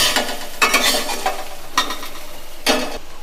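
Steady sizzling of lentils frying with ginger and garlic in a pan, with a few louder scraping bursts from stirring every second or so.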